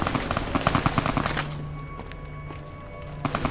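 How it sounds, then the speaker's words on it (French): Rapid bursts of gunfire from attacking soldiers in the video game Fallout: New Vegas rattle in a dense volley, then drop to a low hum before a couple more shots close it out. "Oh putain des coups de feu. Ça doit être les soldats blancs, c'est vrai. Ils attaquent."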